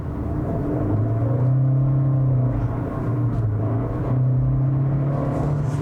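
A Fiat car with a CVT transmission drives along, its engine holding a steady droning hum with slight rises and dips in pitch over a low road rumble, close and continuous.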